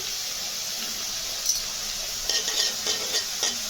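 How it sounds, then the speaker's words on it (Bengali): Nigella seeds and garlic tempering in hot oil in a kadai for prawn dopiyaza, a continuous soft sizzle with scraping stirs toward the end, close and alone. "আমি কালো জিরেটা দিয়ে দিলাম, ফোড়নে রসুনটা দিয়ে দিলাম,"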